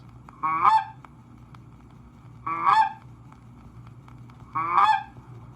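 A goose call is blown to imitate a goose's honk, giving three loud, separate two-note honks about two seconds apart, each breaking sharply upward, heard close up against a quiet background hiss.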